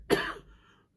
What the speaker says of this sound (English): I don't know why I started coughing like this